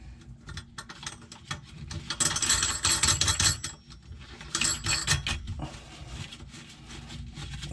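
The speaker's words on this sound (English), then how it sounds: "Tighten the nut up." A metal nut is tightened from underneath with a wrench, giving close, irregular clusters of ratcheting clicks and metallic ticks, louder in two bursts.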